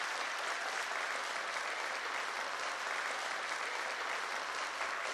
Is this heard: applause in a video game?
yes